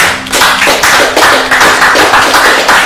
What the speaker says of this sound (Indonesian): Tepuk tangan dulu itu